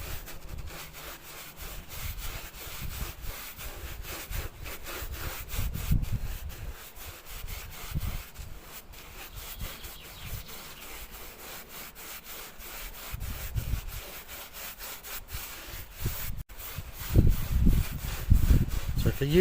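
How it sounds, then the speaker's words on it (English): A brush scrubs primer into the wood of a new garden shed, a steady close rasping rub that repeats in strokes, swelling louder in places, with occasional low bumps. "Just scrub it in till it can't take any more."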